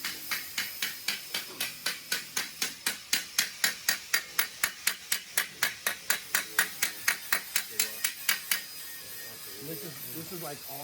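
A body hammer strikes sheet metal held on a dolly during drag car bodywork, about thirty sharp, evenly spaced ringing blows that stop abruptly, followed by quieter shop noise.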